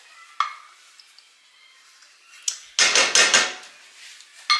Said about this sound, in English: We'll scrape our spatula on this side of our pan